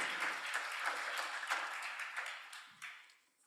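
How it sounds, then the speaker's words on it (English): Audience applause at a Saturday morning church spring meeting, a steady wash of many hands clapping that fades toward the end, with no talk over it. "can we give a round of applause to Zach"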